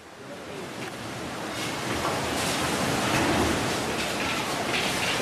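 Tsunami waves from the 2004 disaster surge onto the coast of Indonesia, a dense, rushing roar of water that builds and stays loud and steady throughout, with no voices.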